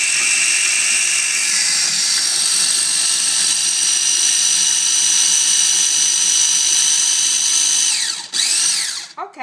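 An electric food chopper whirs loud and steady, chopping garlic with a high motor whine for several seconds, then spins down and stops near the end.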